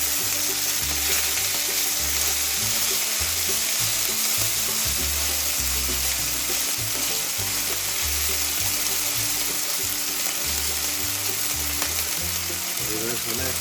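Pepper steak frying in a very hot pan gives a loud, steady sizzle with crackling throughout, and the hiss stays dense and unbroken the whole time.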